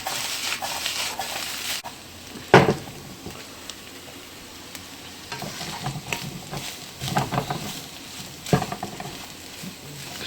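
Chorizo and garlic fry in a pan, giving a steady sizzle broken by scraping stirs and occasional clinks of the utensil against the pan.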